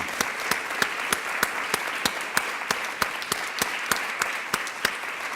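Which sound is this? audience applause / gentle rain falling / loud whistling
audience applause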